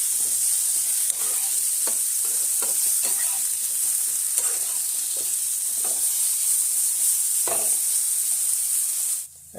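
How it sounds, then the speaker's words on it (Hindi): Potatoes frying in oil with turmeric and salt, a loud, constant hiss of hot oil with a run of scraping stir strokes against the pan, close up and without speech, cutting off sharply at the end. "आलूटा को आम तेल सहित भल भाव में मिक्स कर गोल्डन ब्राउन कलर हवा पर्यंत फ्राए करना"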